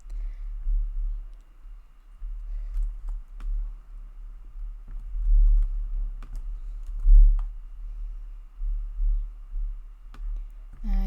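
Typing on a computer keyboard, a run of quiet, irregular key clicks close by over a low background hum.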